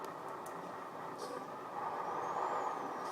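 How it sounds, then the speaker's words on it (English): A low, steady engine rumble from a Volvo FH16 truck in the video game Euro Truck Simulator 2 that swells slightly toward the end, with a faint hiss and no talking. "Ooh, listen to my truck."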